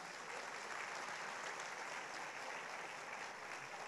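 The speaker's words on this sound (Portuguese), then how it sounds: "Mais um aplauso se você crê" Sustained applause from a church congregation at a Portuguese-language sermon, a dense steady wash of clapping filling the whole stretch with no voice over it.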